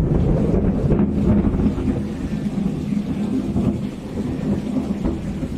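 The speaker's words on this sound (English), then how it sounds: "there's a whole bunch of thunder and lightning" A heavy thunderstorm over flooded Raymondville, Texas: dense, loud rain roars steadily while deep thunder rumbles through, with some wind buffeting the microphone.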